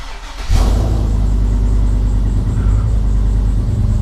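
A GMC Yukon engine cranks and fires up abruptly, then settles into a loud, steady rumbling idle close by, with no talking over it.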